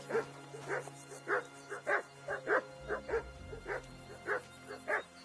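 A dog in the video game Kingdom Come Deliverance 2 barks about ten times in a steady, evenly spaced series of sharp, fairly close yaps, over a low droning background.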